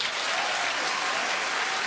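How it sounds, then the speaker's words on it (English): A studio audience on a daytime talk show applauds, a dense, steady clapping close and loud with no voices over it. "Keep clapping."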